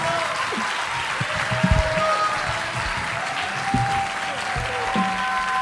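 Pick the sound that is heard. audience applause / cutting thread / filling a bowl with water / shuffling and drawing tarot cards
audience applause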